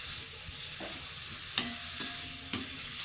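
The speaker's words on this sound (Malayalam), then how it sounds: "ഉള്ളി ചീനച്ചട്ടിക്ക് ഇട്ട് വെക്കാം ഇതൊന്ന് ഇളക്കി കൊടുക്കാം" Onions for cabbage curry fry in a cheena chatti, a soft steady sizzle broken by a few sharp scraping clacks as a spoon stirs them.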